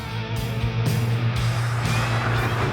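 Classic French rally car, winner of the 1971 Acropolis Rally, driven with its engine droning loud and close from inside, a steady low rumble with brief gear-change dips and rising revs; no voices.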